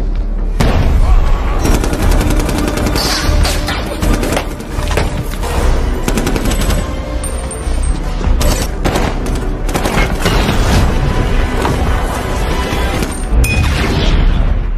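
Gunfire in a marine sniper film action scene: dense, loud bursts of automatic and single shots with booming impacts, continuous and close, over a busy soundtrack.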